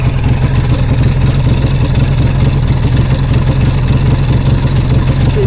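A 1953 AJS Model 20 motorcycle engine idles close by with a steady, loud, low thumping beat that holds even throughout, with no voices.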